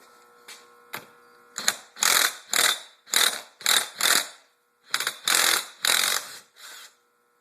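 Socket ratchet working bolts on a Honda CR80 engine during teardown, a series of close, sharp rapid clicking bursts in short strokes with brief pauses between them, loud and alone.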